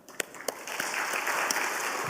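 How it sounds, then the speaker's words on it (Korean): Applause from a church congregation during a worship service, starting with a few scattered claps and building into steady, continuous clapping. "아름다운 찬양을 해주신 아가페 찬양대에게도 위로의 박수를 올려드리겠습니다."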